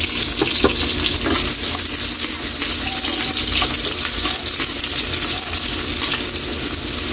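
Garlic, onion and ginger sauté in a hot pan for pork sinigang, giving a dense, unbroken sizzle with occasional stirring scrapes, close and loud throughout.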